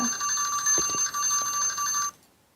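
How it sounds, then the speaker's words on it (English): A timer alarm rings with a steady, bright electronic trill for about two seconds, close and fairly loud, then cuts off abruptly into near silence. "There's my timer."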